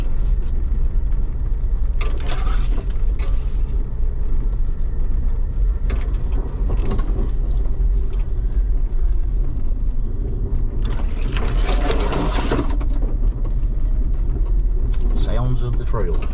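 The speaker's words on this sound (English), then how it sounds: "Whole lot of overgrowth. You can hear it running down the sides and hitting the antenna." Brush and overgrowth scraping down the sides of a vehicle and hitting its antenna on a narrow forest trail, with scratchy bursts of rubbing over a constant engine rumble and someone talking.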